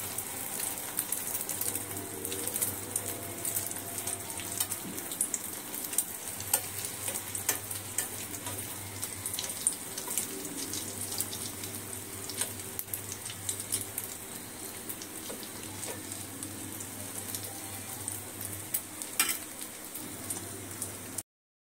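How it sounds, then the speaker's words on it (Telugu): Beaten eggs sizzle steadily in hot oil in a pan, cooking into an omelette; a continuous, fairly soft frying crackle with a low hum beneath and no voices. "అదే ప్యాన్లోకి ఆయిల్ వేసుకొని ఇప్పుడు మనం కలుపుకున్న ఎగ్స్"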